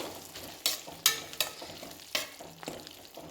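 Softened tomato and garlic fry in a pan with a steady low sizzle, broken by several sharp scraping strokes of a spatula stirring at irregular intervals, close and clear with no talk.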